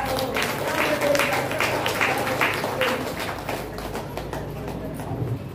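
Applause from an audience at a Dr. Babasaheb Ambedkar birth anniversary celebration after a devotional song, a steady wash of clapping from a crowd that fades somewhat toward the end, with a voice faintly audible underneath.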